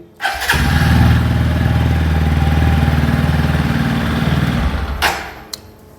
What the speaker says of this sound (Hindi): बाइक स्टार्ट हो रही है